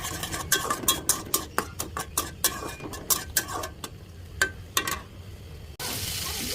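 Prawns stirred in a pan with ginger, garlic, salt, turmeric and chilli powder: a quick series of close clicking, scraping spatula strokes over a light sizzle, ending in a steady louder frying hiss.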